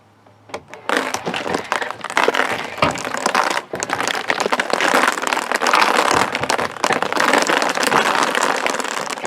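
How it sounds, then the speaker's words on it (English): Water pours and splashes steadily over a Chevrolet Squarebody Suburban's closed barn doors for several seconds, loud and close, with a rough, crackling texture and no talking. "I'm now pouring water."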